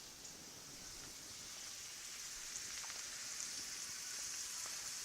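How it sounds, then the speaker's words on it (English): Chopped onion and green pepper sizzle in olive oil in a pan, a faint, steady hiss with occasional soft pops and no one talking. "we're going to start sauteing that in our olive oil"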